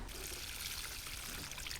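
Water pours steadily into a small planting hole dug around a chrysanthemum during autumn planting, a continuous soft trickling splash lasting about two seconds with no voices.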